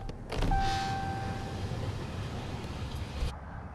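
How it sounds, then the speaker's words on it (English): Electric rear sliding window on a Ram truck moving, a close whirring motor with a thin whine that runs for about three seconds and then stops abruptly, no speech. "You can slide your back window open, you can slide it closed"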